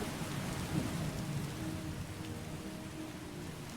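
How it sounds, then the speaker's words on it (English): Rain and thunder in the game Skyrim, heavy rain pouring steadily with a low rumble of thunder beneath it, loud and continuous with no speech. "hopefully the rain stops, because, geez, it's noisy"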